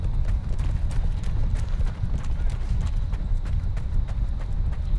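Horse galloping during Chivalry 2 mounted combat, rapid rhythmic hoof clops drumming close and loud throughout, with game noise mixed in.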